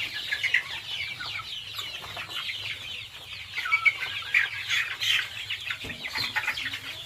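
Local chickens at a small poultry farm in Assam, a flock clucking and chattering continuously at close range with occasional wing flaps, no talk.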